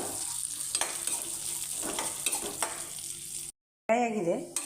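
Raisins frying and being stirred in a pan for carrot halwa, steady sizzle with spatula scrapes and taps, then a short silence before a clatter.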